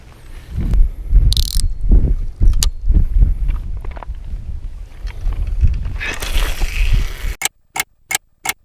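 Fishing reel drag clicks in a quick ratcheting run as a channel catfish pulls line while bank fishing with a slide rig and natural bait, followed by a few sharp separate clicks near the end, with low handling noise throughout.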